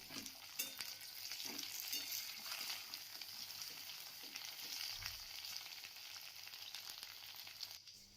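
Eggplant frying in a pan with potato and spring onion, a quiet steady sizzle broken by scraping stir strokes and soft spatter, close and alone without talk.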